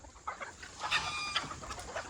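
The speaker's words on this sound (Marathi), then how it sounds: "ह्या सर्व अशा आपल्या कोंबड्या आहेत" Free-range country chickens clucking together on a poultry farm, a steady overlapping chorus of close, busy calls with sharper squawks rising now and then, and no voices over it.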